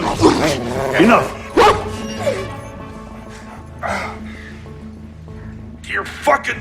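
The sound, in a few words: dog barking in an action movie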